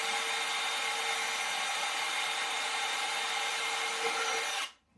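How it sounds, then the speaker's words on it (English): Power drill with a 1/8 bit boring through wood on an RC plane build, a steady high whine running continuously at close range for nearly five seconds before stopping abruptly. "Just going to drill this out."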